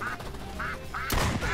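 Cartoonish duck quacks from the Duck Season hunting video game, several short calls in a row ending in a louder burst of game noise, with a little background chatter.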